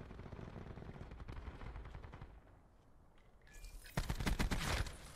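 Rapid gunfire in Call of Duty: Black Ops 4, steady automatic bursts up close, a brief lull, then a louder sharp volley near the end.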